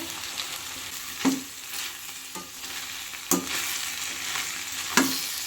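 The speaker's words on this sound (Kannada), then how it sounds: "ಒಂದು 1 ನಿಮಿಷ ಚೆನ್ನಾಗಿ ಈ ಶುಂಠಿ ಬೆಳ್ಳುಳ್ಳಿ ಪೇಸ್ಟ್ ಜೊತೆಗೆ ಚೆನ್ನಾಗಿ ಮಿಕ್ಸ್ ಮಾಡಿಕೊಂಡು ಚೆನ್ನಾಗಿ ಹುರ್ಕೊಳ್ಳಿ" Chicken frying with ginger garlic paste in a pan for chicken gravy, a soft constant sizzle broken by a few distinct scraping stirs of a spoon, no talking.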